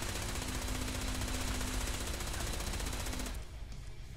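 Rapid gunfire from a rifle in the video game Fallout 76, a dense, continuous burst of loud shots for about three seconds before it cuts to quieter game ambience.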